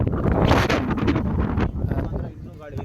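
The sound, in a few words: wind blowing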